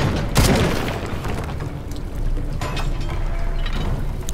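A loud boom with a mechanical clatter from security mechanisms being shot apart in Shadow of the Tomb Raider, followed by rumbling, grinding game noise that carries on steadily to the end.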